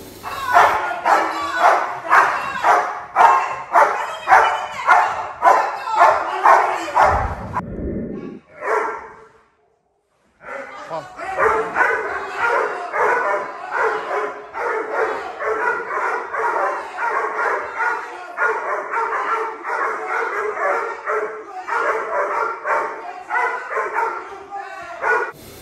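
A residential protection dog barks loudly and repeatedly in a steady rapid rhythm, with a brief pause partway through before the barking resumes just as intensely.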